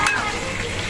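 Patin fish fries in a hot pan with a steady, loud sizzle and crackle, close up and continuous from start to finish.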